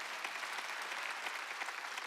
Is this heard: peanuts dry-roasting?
no